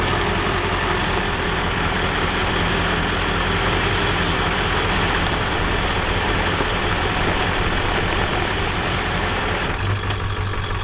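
A 7.3L PowerStroke diesel Ford F-350 4x4 with limited slip idles and crawls across ice, a loud, continuous low diesel clatter and rumble close by.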